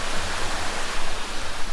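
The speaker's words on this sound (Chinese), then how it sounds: "突然能看到有个流的小溪" A small stream of water released from a dam flows through a cool mountain valley, giving a steady, close rushing wash with no voices.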